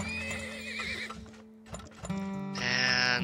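A horse neighs in the Turmoil oil-drilling game, a loud whinny with hoof clip-clops, set against steady game music and tones.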